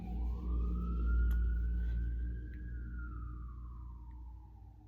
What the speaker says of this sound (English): Every time I hear fire engines and police, if I'm not running from them, I get sad for people.